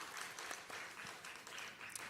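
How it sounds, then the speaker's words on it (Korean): Audience of teachers at a church teachers' conference clapping together, a steady dense patter of many hands sustained throughout with no pauses. "우리 축하하고 축복하면서 한번 박수하겠습니다"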